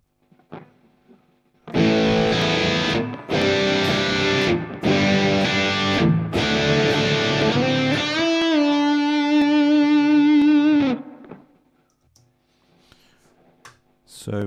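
Loud distorted electric guitar chords through a JCM 800 amp model on a Hotone Ampero II Stomp ring out in several strummed bursts, then a sustained note decays with a wobbling, reverberant tail into quiet.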